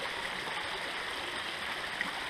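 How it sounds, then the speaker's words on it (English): A brook runs through spring woodland in Vermont with a steady, moderate broadband rush and soft gurgle. The flow is continuous and even, with no voices. "There's a brook behind me."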